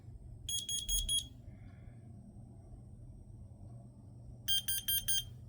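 A smoke and carbon monoxide alarm under test sounds two bursts of rapid shrill beeps about four seconds apart, with a low rumble underneath and quiet in between.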